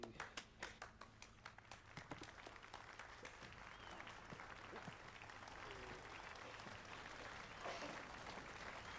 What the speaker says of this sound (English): The weirdest clapping ever.